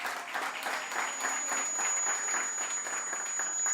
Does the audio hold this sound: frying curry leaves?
no